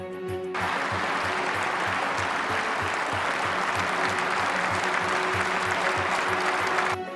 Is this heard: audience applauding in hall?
yes